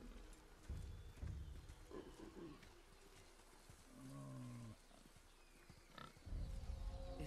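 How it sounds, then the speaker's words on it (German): Several pigs grunting in God of War, low snorting grunts in short bursts amid the game's forest ambience, with a voice speaking between them. "Da sind nur mehrere Schweine."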